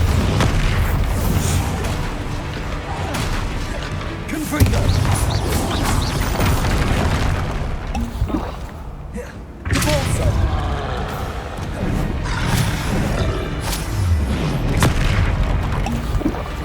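Bombarda and Confringo spell blasts in the Hogwarts Legacy video game, a dense run of deep booming explosions that thud repeatedly for the whole stretch, with a brief dip in the middle before the barrage resumes.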